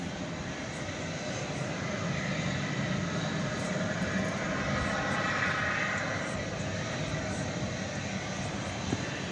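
An Airbus A321 departing Dallas Fort Worth at night for Sacramento gives off a steady, fairly loud jet engine roar that swells slightly in the middle and runs continuously.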